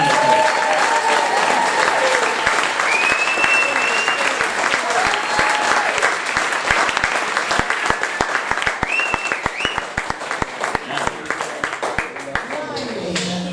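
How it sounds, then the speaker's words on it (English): Wedding guests applaud after a speech at a wedding reception, a dense, loud burst of clapping that fills the room, with a few cheers early on and the applause thinning toward the end as distinct claps emerge. "Give it a fellow round of applause."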